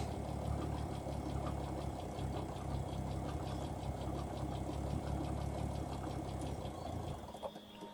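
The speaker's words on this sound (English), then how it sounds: "So it's idling quite lean, running quite lean." A Ford Anglia engine idles lean with a low, even rumble and faint rhythmic ticking, unchanging until it dips slightly near the end.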